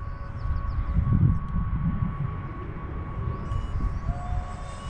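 A radio-controlled model airplane flies past at speed, its engine giving a steady droning whine with a brief swell as it passes, heard from the ground at moderate distance.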